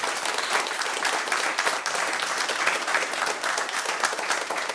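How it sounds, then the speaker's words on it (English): A live podcast audience in Glasgow gives sustained, dense applause as a guest wrestler named Lionheart is welcomed onto the stage. The clapping stays steady and loud throughout, with no break. "Keep that clap going."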